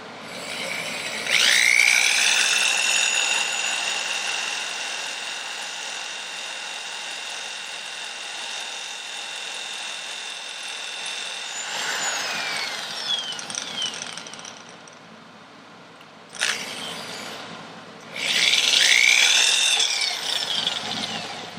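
A power drill spins up and bores steadily for about ten seconds, pauses, then runs again in shorter bursts with changing pitch as it cuts through.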